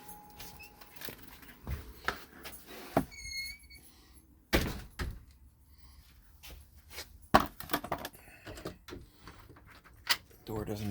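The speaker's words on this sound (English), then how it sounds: "Door doesn't exactly want to like latch if it just gently pushes closed." A door is pushed gently shut and fails to latch. Several loud, close thuds and knocks stand out among quieter rattles and handling noises, with a voice talking at times.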